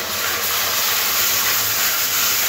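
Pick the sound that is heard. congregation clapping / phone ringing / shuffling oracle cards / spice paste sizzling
spice paste sizzling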